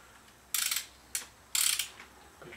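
A half-inch ratchet with a short flat bit works on a Suzuki Bandit motorcycle, giving three quick bursts of close, crisp clicking separated by short pauses.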